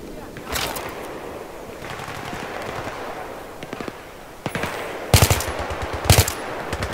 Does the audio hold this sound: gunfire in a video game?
yes